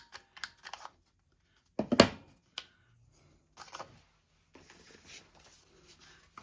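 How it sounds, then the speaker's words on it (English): A corner rounder punch clips the corner of a pre-cut index card with one sharp, loud snap, surrounded by softer handling clicks and rustles nearby. "Let's round this corner."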